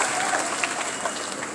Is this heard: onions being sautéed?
no